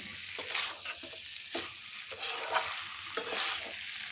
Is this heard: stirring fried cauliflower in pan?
yes